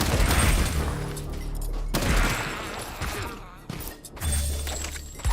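Gunfire in the Far Far West game: loud booming shots and shattering impacts in heavy bursts, with short gaps between volleys and a voice heard faintly underneath.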